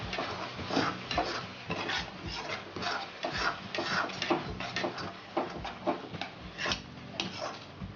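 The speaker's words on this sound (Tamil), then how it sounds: "இது நல்லா மிக்ஸ் பண்ணுறோம்." A spoon stirs spiced masala of coriander powder, cumin and chili powder in a pan, making soft scraping clicks and light taps in an irregular rhythm, faint and close, with no talk.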